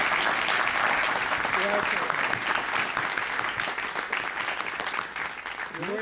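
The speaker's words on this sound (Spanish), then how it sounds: "Yo pido un aplauso para Eloy Cepero." An audience at a book presentation gives steady, sustained applause for Eloy Cepero, a dense wash of clapping that holds for several seconds and tapers slightly at the end.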